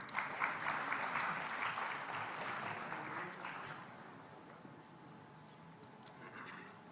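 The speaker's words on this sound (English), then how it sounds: "Let's welcome him with a round of applause." Applause from a large audience at a literature festival gathering in Odisha, welcoming a speaker; loud, dense clapping for about four seconds that then fades to a quieter, thinning patter.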